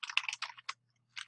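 Someone types on a computer keyboard, pressing tab, in a brief run of quick, soft, close keystrokes with a short gap before a last key.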